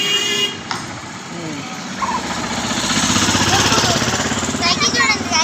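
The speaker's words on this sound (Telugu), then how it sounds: "జరుగు జరుగు, ఆటో వస్తుంది" An auto rickshaw's engine approaches along a street and grows steadily louder and closer, while people speak nearby.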